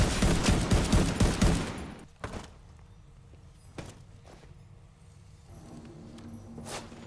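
Bursts of rapid automatic gunfire from The Division 2 shooter game, loud and dense for about two seconds, then a few isolated single shots and faint footsteps over quieter ambience.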